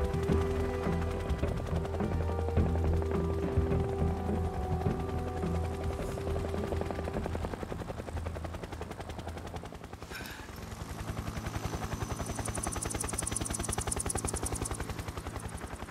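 A Hind D helicopter in Metal Gear Solid 3: Snake Eater thrums with a loud, steady rotor chop, overlaid by rapid machine-gun fire and game effects, with a rise in high-pitched whine toward the end.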